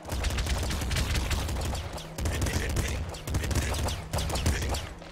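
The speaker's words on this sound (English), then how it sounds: "Back to machine gunning everything." Rapid machine gun fire in the top-down shooter Nuclear Throne, dense bursts of crackling shots in quick succession with brief pauses between volleys, loud and continuous over game noise.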